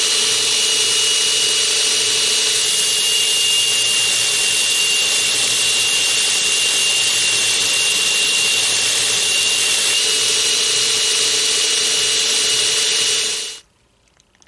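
Steel ring knife flats being ground on a belt grinder, a loud steady high whine with a constant tone that runs unbroken for about thirteen seconds before cutting off abruptly.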